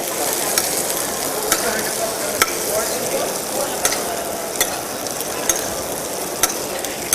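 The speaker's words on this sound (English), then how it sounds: "what I'm gonna do right now is to spoon it over the skin." Butter spooned over fish skin in a hot pan, a steady loud sizzle and frying hiss with small regular clicks of the spoon against the pan every second or so, no voices.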